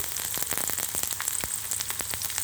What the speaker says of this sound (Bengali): এখন এই পর্যায়ে আমি পেঁয়াজ রসুনগুলিকে দিয়ে দেব দিয়ে দিলাম পেঁয়াজ রসুন